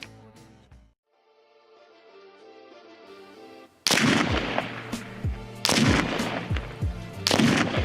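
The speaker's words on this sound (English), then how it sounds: "I'm gonna shoot the next groups and see what happens." A .30-06 rifle firing paper-patched loads cracks three loud shots about two seconds apart, each followed by a ringing echo, after a quieter stretch of tonal music at the start.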